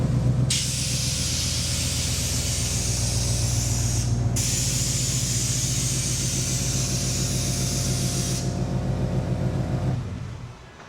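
Air ride suspension on a custom hot rod letting out a loud, continuous pneumatic hiss, briefly cutting out and resuming, then fading near the end over a low idling rumble.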